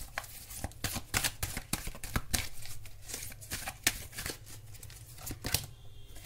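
Tarot cards being shuffled in a quick run of crisp riffling flicks and slaps, steady and close, with no talking.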